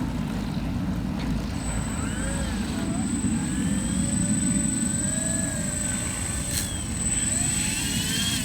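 A radio-controlled P-38 model airplane comes in to land, its engine noise a steady, loud broadband roar throughout with a thin high whine on top, while faint voices carry in the background.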